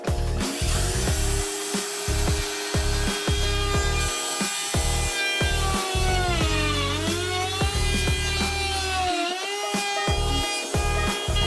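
A wood trimmer router whines as it carves the hollow in a bamboo frame piece, with close, loud cutting that rises and falls in pitch through repeated passes and brief pauses, no talking.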